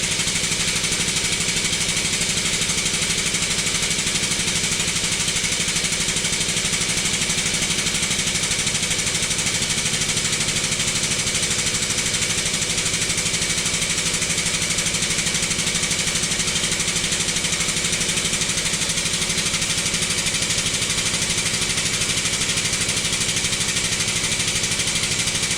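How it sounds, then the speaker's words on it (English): Air compressor supplying a press, running as a loud, constant mechanical drone with a steady broadband hiss that never changes, close by, with no talking. "This thing does use a lot of air in the air compressor."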